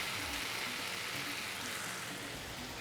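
Vegetables and kidney beans fry in seasoned oil, giving a steady, dense sizzle that hisses evenly and close throughout, with no voices over it.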